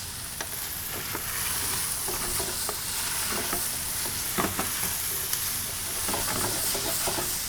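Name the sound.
stirring chipotles in adobo into frying dish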